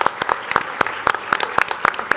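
A small crowd at a school board meeting claps together, a brisk steady patter of hands that carries on without a break, close and moderately loud, and no voices are heard.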